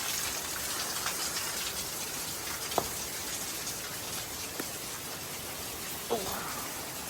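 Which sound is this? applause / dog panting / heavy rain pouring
heavy rain pouring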